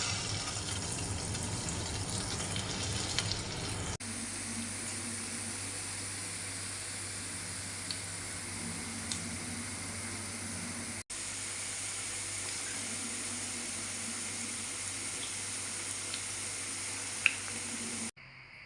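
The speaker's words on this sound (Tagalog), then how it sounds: "Magprito na nga po tayo." Chicken meatballs frying in hot oil, giving a steady low sizzle and bubble with a few faint clicks, broken by short edits into separate stretches at a constant, fairly quiet level, and no one speaking.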